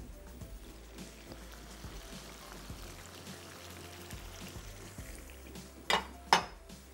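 A little water hits hot oil in a covered pan of chicken with cut tomatoes, raising a steady broad sizzle and hiss, with a couple of brief metallic clinks near the end.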